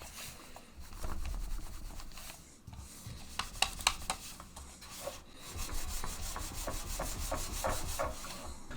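A Razer Deathadder Essential gaming mouse dragged across a mouse mat gives a faint, gritty, sandpaper-like scraping in continuous strokes with small ticks, close up and alone.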